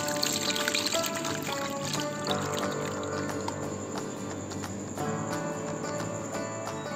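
Plum water from soaked aloo bukhara is poured through a strainer for chutney, a steady trickling pour running continuously under faint background music.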